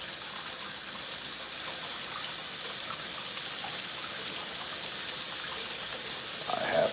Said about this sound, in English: Let the cold water run.